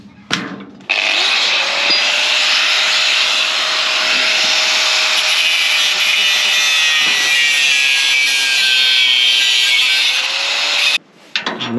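A power drill boring into wood on the side of a farm trailer, a loud steady whine with grinding wood noise lasting about ten seconds before cutting off, then a brief restart.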